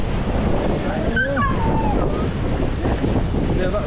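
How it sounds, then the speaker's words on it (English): Gusty wind buffets the microphone in a steady roar at Charmouth beach near a harbour, with surf underneath and a voice talking faintly through it. "It's a bit windy, so you might not be able to hear her voice"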